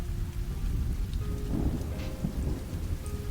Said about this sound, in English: It's raining outside and the world is indoors